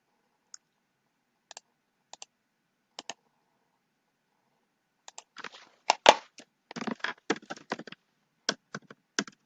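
Sparse, sharp computer mouse clicks, isolated at first, then a denser cluster of clicks and clatter before spacing out again, heard close up in an otherwise quiet room.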